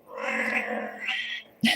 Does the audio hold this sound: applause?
no